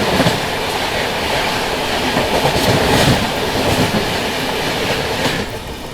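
The Visakhapatnam–Secunderabad Garib Rath Express rolls past close alongside, a loud, steady rumble of wheels with rhythmic clickety-clack that fades slightly at the end.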